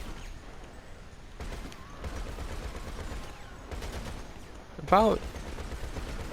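A vehicle-mounted weapon firing in a video game, with bursts of rapid gunfire at a moderate distance under a player's talk and ending in a sharp, louder shot.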